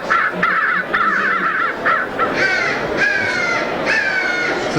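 Several crows caw in repeated harsh bursts, starting with a few birds and building into a louder overlapping chorus of calls, fairly close and steady throughout.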